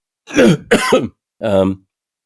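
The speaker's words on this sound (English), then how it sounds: "Sorry, I can't stop coughing." A person coughs and clears their throat in three harsh bursts, close and loud, with short pauses between them.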